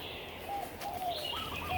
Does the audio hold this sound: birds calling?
yes